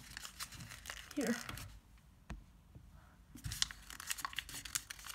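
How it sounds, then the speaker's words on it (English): Origami paper for a skull and crossbones model being folded and squashed, giving close crinkling and crisp rustles in short bursts around a brief pause, with a voice speaking briefly over it. "So take these flaps and fold it along that edge, then squash it"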